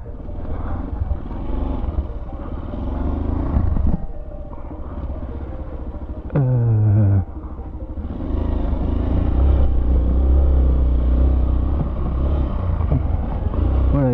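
A motorcycle engine rumbles up close with a steady low drone, briefly rising in pitch mid-way as if revved, then settling back into a loud, continuous running sound with no talking.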